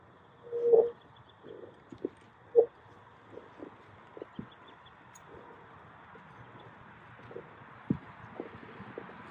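A bridle horse's hooves step slowly on the ground at a training clinic, a scattered series of soft thuds and clops, one louder near the start, over faint ambient noise.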